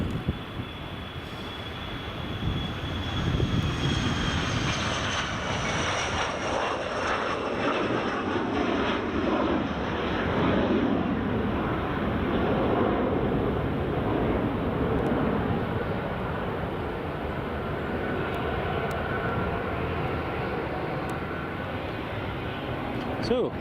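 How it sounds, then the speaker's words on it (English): A Loganair Embraer 145 regional jet passes at Edinburgh Airport with a loud, sustained engine roar that swells and lingers across the scene, while voices chat over it. "Here goes Loganair, Embraer"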